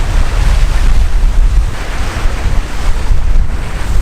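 Strong wind gusting by a lake in snowy, freezing weather, a loud steady roar of buffeting air and microphone wind noise with a low rumble of choppy water, no voices.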